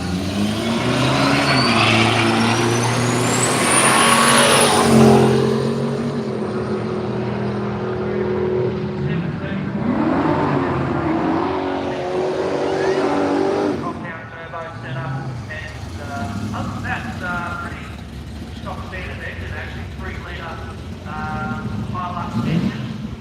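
A diesel-powered Holden races down the drag strip at Willowbank Raceway, its loud engine roaring and rising in pitch before fading, followed by more engine noise while a voice talks over the crowd.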